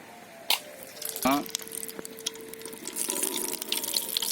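Hot water is drained from a pot of just-cooked rice for mushroom biryani, with a few knocks and a brief vocal sound before a steady splashing pour builds near the end.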